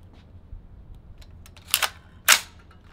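A suppressed AR-15 rifle fires supersonic 5.56 rounds at bowling balls outdoors, two sharp, loud cracks about half a second apart standing out over a quiet background.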